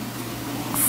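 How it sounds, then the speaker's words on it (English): Spray bars on a 1210-gallon DIY plywood aquarium push water across the surface, making a steady, close rushing hiss that stays even for the whole short stretch. "the spray bars are operating"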